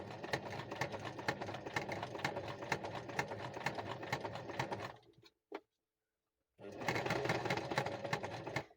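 A sewing machine stitching a fabric junk journal cover runs in a fast, steady mechanical chatter, stops for about a second and a half of quiet with a brief click, then resumes at full speed.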